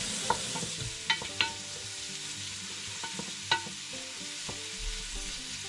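Onions sautéing in a pan for pork hock hamonado give a steady, close sizzle, broken by a few sharp clicks of a utensil against the pan.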